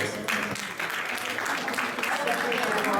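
An audience at a Black History Month evening event gives a round of applause for a speaker, steady clapping filling the room for a few seconds, with voices faintly mixed in.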